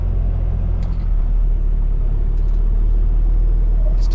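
A semi truck drives across a yard to swap trailers in the cold, giving a steady, loud, close engine rumble with a few faint higher clicks and squeaks on top.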